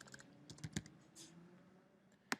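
Computer keyboard typing in the Spring Tool Suite IDE: a quick cluster of soft, close key clicks, a pause, then a couple of louder isolated keystrokes.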